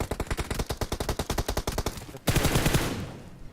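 Rapid automatic gunfire from a nearby building in BGMI, a long burst of evenly spaced loud shots followed by a denser, sustained volley that fades out.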